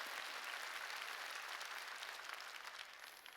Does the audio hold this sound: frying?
no